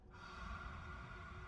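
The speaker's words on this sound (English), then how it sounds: "I definitely still hear breathing." In the space game Outer Wilds, a character's breathing comes through as a quiet, steady airy rasp, a short inhale-like hiss with no voices over it.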